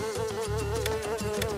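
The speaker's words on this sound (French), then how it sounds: "il y a plein de mouches ici" Flies buzzing close by, a droning whine that wavers in pitch and holds steady for the whole moment, with no talking over it.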